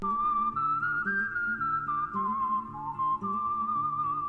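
A sustained whistle-like melody, recreated from a rap beat sample using Omnisphere, glides over a looping beat with a steady bass and rhythmic backing, loud and continuous throughout.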